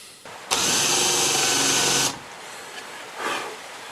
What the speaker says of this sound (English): Okay, so I'm just doing some little guide holes for the router. Just been using a standard wood bit.